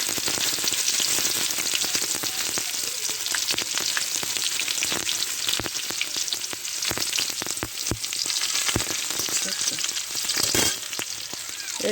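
Panch phoron, a five-spice tempering, fries in hot oil with a continuous loud sizzle and scattered sharp pops and crackles. Stirring scrapes join in near the pan, with no talking.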